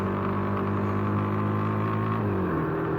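Truck passing on a road, heard from a motorbike touring between Semarang and Temanggung as a loud steady engine drone with a pitch that shifts near the end, constant and close, no voices.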